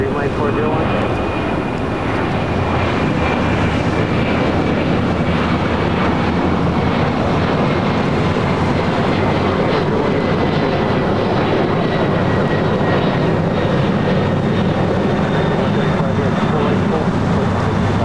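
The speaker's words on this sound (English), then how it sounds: "A couple of heavies about to depart here on the south side." Heavy jet airliners on the south side of LAX, lined up for departure, give a loud, steady, broadband engine roar that fills the whole stretch, with a faint tonal whine over the rumble.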